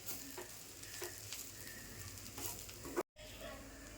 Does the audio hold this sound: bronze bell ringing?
no